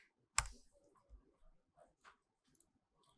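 Someone types a number on a computer keyboard while working in Revit software: a handful of sparse, quiet clicks with one sharper keystroke near the start, in a hushed room.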